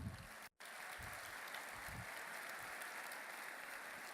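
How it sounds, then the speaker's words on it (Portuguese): Church congregation at a religious conference applauding, a steady broad clapping that continues through the whole span, broken by one brief dropout near the start, fairly distant and faint. "Vamos aplaudir o Senhor"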